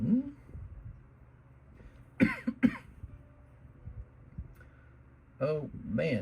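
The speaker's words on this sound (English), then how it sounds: "Oh man, too much coughing." A person coughs a few times in short, close bursts, with a pair of harsh coughs in the middle and another cluster near the end, over a quiet room with faint background hum.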